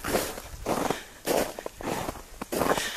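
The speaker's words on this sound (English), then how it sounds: "You can also hear my tree coming behind me." Small Christmas tree dragged over snow behind a person on snowshoes, heard as rhythmic crunching and scraping bursts, about five in three seconds, close and moderately loud, no talking.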